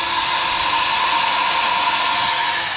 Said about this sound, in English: all we've done here is heat gunned it as per Herman